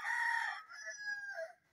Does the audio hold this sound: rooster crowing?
yes